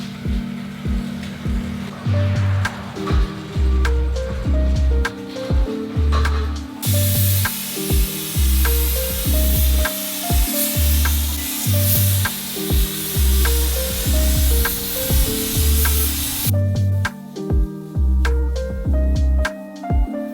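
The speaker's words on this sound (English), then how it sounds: "we're gonna go ahead and spray out the Raptor liner" A steady, loud spray hiss from a spray gun applying Raptor bedliner coating over factory undercoating on a Honda NSX runs through the middle stretch, layered over rhythmic background music that continues before and after.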